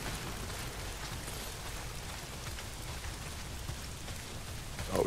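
Steady rain pours down in the video game Days Gone, a dense, even hiss of falling water that continues unbroken throughout, with no voices.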